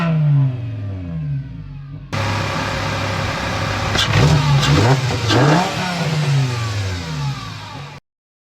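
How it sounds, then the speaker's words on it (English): A VW Jetta MK6 with a freshly swapped engine and 02Q six-speed, idling then revved several times in quick bursts, the engine note rising and falling loudly and close by, with no voices. "I'm gonna give it a little rev"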